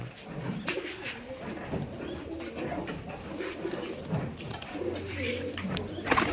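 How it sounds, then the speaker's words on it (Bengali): Pigeons coo at a Rajshahi pigeon farm of Giribaz birds, soft low repeated calls blending into a busy background of shuffling and faint chirps, with a steady low hum rising near the end. "যে কবুতরগুলো অনেক সুন্দর"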